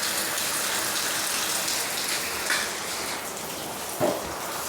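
Steady heavy rain pours down during a windstorm that tore off part of a roof, a dense even hiss with a couple of brief louder splashes and no voices.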